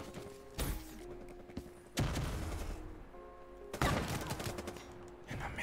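Video game gunfire: a few sharp, loud bursts of shots spaced a couple of seconds apart, each followed by a ringing tail, with steady game music and ambience underneath.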